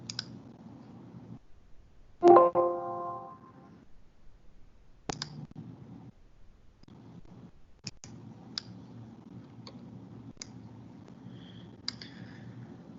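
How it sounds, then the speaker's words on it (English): Quiet computer mouse clicks as a download button is pressed, a few sharp isolated taps over a faint room background, with no talking. "So if I click on download,"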